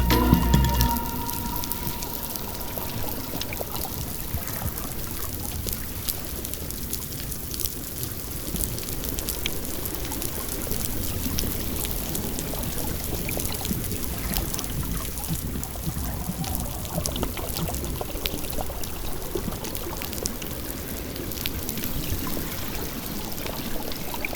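Dense underwater crackling and popping from snapping shrimp off the coast of Mozambique fills the scene continuously, a steady fizzing static like countless tiny snaps, with a low watery rumble beneath.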